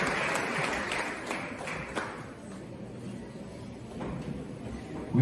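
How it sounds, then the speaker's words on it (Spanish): A church congregation at a missions congress applauding to welcome a guest pastor from Spain, a moderate wash of clapping that swells early then gradually thins and fades before a voice begins. "Yo quiero que recibamos un aplauso de honra"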